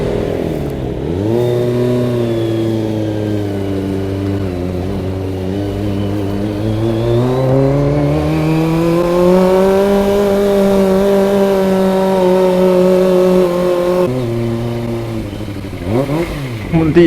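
The inline-four engine of a Kawasaki ZX25R motorcycle revs loud and close on a mountain ride around Baguio and Bontoc, its high-pitched whine climbing and holding, dipping briefly, then rising again with a sharp blip at the end.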